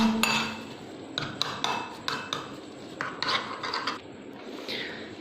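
Spices and seasonings stirred together in a bowl for spicy fried chicken, heard as close, repeated scraping and rasping strokes with small clinks, steady rhythm, no talking.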